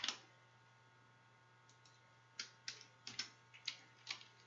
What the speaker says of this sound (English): And you would just keep on typing whatever text.